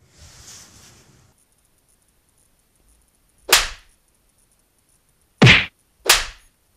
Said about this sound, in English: all of a sudden they're shooting off fireworks over there, and you can probably hear them in the background with the generators going